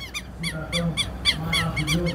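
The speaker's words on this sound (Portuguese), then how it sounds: "Olha os pássaros aí." Southern lapwings (tetéu) call near a bridge at Poço Verde, Itapipoca, Ceará, a series of sharp repeated shrieking cries in quick bursts, loud and fairly close, over a low background rumble.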